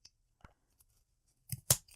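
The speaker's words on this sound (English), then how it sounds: "you're going to take your scissors and you're going to cut along" Scissors snip through yarn wrapped around a pom-pom maker, giving a few faint, quiet cuts followed by two sharper, louder snips close by.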